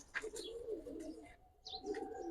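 Soft coos of Giribaz high flyer pigeons murmur close by, a few low throaty calls with light chirps over a quiet background.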